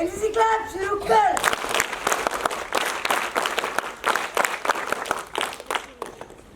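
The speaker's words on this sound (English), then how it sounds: "NCC clap, शुरू कर." School cadets do an NCC clap, a sharp, rhythmic series of loud hand claps in a group that begins just after a voice and goes on for about five seconds, with shouted voices mixed in.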